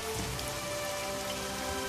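Steady rain falls in a cartoon scene, a dense continuous hiss of drops pattering on surfaces, moderately quiet and unbroken, with no voices over it.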